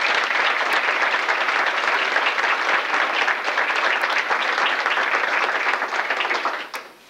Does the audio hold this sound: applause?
yes